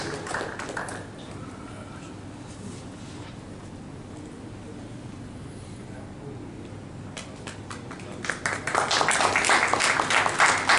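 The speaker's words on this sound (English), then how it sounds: "A big applause for them as well." Audience applause at an auto parts manufacturing industry ceremony as participants collect shields, with crowd murmur giving way to a burst of dense clapping that swells loudly over the last few seconds.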